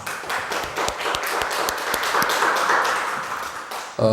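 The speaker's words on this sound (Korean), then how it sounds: "우리 광영 씨 부부를 위해서 한번 박수를 한번 축하." A church congregation claps together in a sustained round of applause, with sharp, dense hand claps continuing steadily for several seconds before cutting off.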